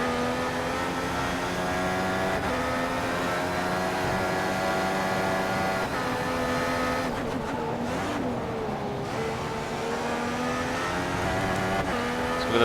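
An F1 race car in F1 2014, racing at the Bahrain Grand Prix, holds a steady high-pitched engine whine that climbs and dips through gear changes, loud and continuous from start to finish.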